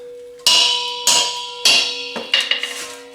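A propane tank valve struck with a couple of hard whacks to break it loose: four loud, ringing metallic impacts about half a second apart, followed by a quicker cluster of lighter taps, with no talking.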